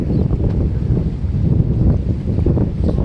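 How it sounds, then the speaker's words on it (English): Strong wind buffets an outdoor microphone, producing a loud, continuous low rumble with irregular gusting surges and no voices. "Now there is a lot of wind today, so it's going to be a sound."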